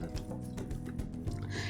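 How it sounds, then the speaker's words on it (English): Quiet liquid pouring and dripping as coffee made from Colombian medium-fine city roast beans is brewed in Persona 5 Royal, with soft irregular trickles and splashes continuing throughout. "today we're going to try brewing up a cup of coffee from step 1"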